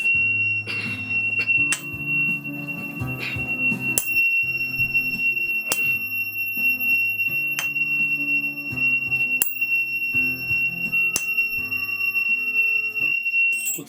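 Tuning forks tuned to F ring repeatedly in a healing session, each sharp strike followed by a sustained pure tone, with low thudding handling sounds between strikes.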